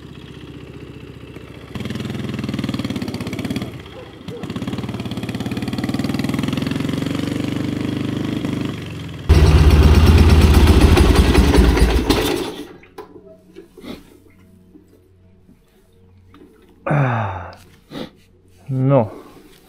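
A Dnepr K-750 motorcycle engine idling unevenly, its right cylinder sometimes misfiring, a low rumbling drone that swells into a loud burst before dropping away, with someone talking over and after it.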